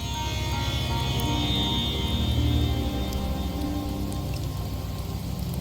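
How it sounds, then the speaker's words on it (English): Steady rain falls across a scene in Septimont in the game Wuthering Waves, a dense continuous hiss that stays even and close for several seconds with no talking. "The rains in Septimont never seem eager to leave this season."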